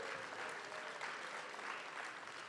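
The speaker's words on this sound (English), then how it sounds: "They're clapping for you." An audience claps steadily and continuously for preschool graduates at a graduation ceremony, a dense even wash of applause throughout.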